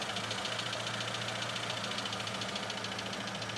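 A car engine idles steadily up close while the throttle shaft is wiggled, a low rumbling hum with a faint rhythmic knock and no clear revving.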